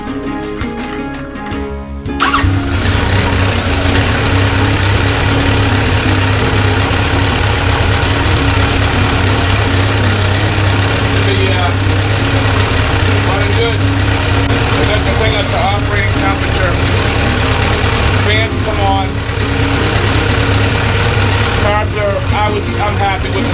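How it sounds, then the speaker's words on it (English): A Kawasaki Concours ZG1000 motorcycle engine with freshly synced carburetors idles steadily after starting up, a continuous low rumble with a rapid mechanical beat, close and fairly loud throughout. "we have a bike with an engine, a running engine in it"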